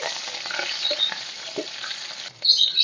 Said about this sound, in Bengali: দিয়ে দিচ্ছি কালো জিরে কাঁচা লঙ্কা কাঁচা লঙ্কা একটু বেশি করে দিচ্ছি